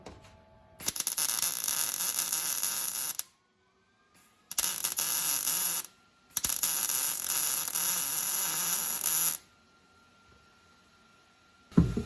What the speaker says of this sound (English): Okay, I'm going to weld up another 1/2 inch or so.